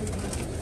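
A pigeon coos softly in a brief, low, murmuring call, close by with a steady background hum.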